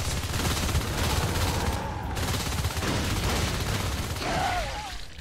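Rapid rifle gunfire in the competitive multiplayer game Natural Selection 2, a dense, loud, continuous stream of shots with brief pauses, tonal game effects chirping over the top.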